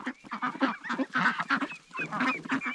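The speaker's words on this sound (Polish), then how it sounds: "Biegus indyjski, kaczka staropolska, gęś biała i kogut Stefan o tam skacze" White geese honking among Indian runner ducks and old Polish ducks in a garden flock, a rapid overlapping chorus of nasal honks and quacks, close and continuous with no talking.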